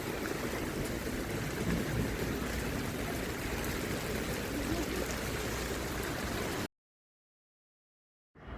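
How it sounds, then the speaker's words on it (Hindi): Heavy monsoon rain pours in a dense, steady roar for several seconds, then cuts off abruptly into silence before the downpour returns at the end. "हम यहाँ बारिश रुकने का नाम नहीं ले रही है।"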